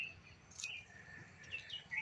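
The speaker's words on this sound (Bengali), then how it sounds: "আর চারিদিকে শুনুন, শুধু পাখির ডাকই শুনতে পাবেন।" A few faint, brief bird chirps in a quiet rural village in Plassey, Nadia, heard at a distance over soft, low ambient background noise.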